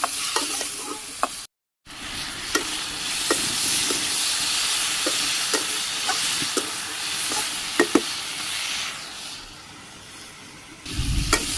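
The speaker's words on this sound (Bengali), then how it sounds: "নেড়ে চেড়ে কষিয়ে দিলাম" Vegetables with salt, turmeric, dry chili powder and green chilies being stirred and sautéed in a pan over a clay stove on a rooftop, giving a steady sizzling hiss with repeated scraping stirs, close and continuous, briefly cutting out near the start.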